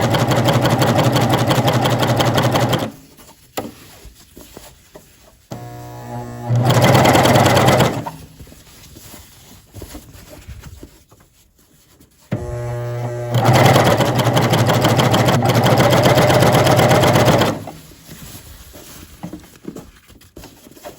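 Coverstitch sewing machine stitching in two loud sustained bursts of rapid, even needle chatter, each lasting several seconds, separated by quieter handling pauses.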